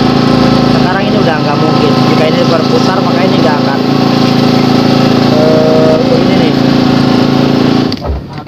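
Old Honda Supra X motorcycle engine running steadily with a gear-shift fault, a loud continuous buzzing drone up close that cuts off near the end, with talk over it.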